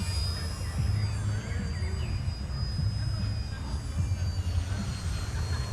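A Blade mCP X BL2 radio-controlled helicopter flies close by with a steady, unbroken electric whine over a low rotor drone, holding an even level throughout.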